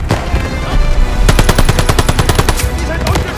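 Machine gun fire rattles out in rapid bursts during a Call of Duty: Vanguard battle, loud and close over a rumbling combat backdrop.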